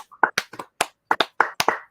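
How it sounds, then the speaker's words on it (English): A few people clap in sparse, irregular bursts, about a dozen sharp slaps close by with silence between. "Let's give a long clap for Mike, the MVP of the trusses"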